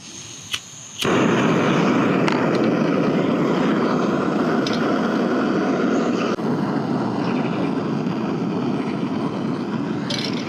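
A tiny camping gas stove is lit with a sharp click, then bursts into a loud, steady roaring hiss of burning gas that continues evenly at close range.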